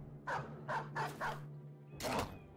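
A dog in the video game Battle Brothers barks four short times in quick succession, then lets out one more bark after a brief pause, clear and fairly close.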